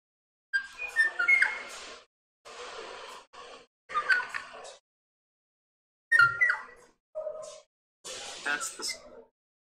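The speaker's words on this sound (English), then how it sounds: "That's the sound of the Kauai o'o singing" Recorded song of a Kauai o'o, a Hawaiian forest bird, comes in several separate bursts of fluting whistles and warbled phrases divided by short silences, clear and fairly close.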